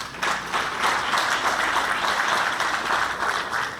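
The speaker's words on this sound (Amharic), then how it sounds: "አጨብጭቡልኝ" Audience applause, a dense steady roar of many hands clapping together that holds at even loudness throughout, with no voices over it.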